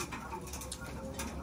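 Racing pigeons at their loft after a 168 km race give soft, low coos over a faint rustle, under quiet background noise.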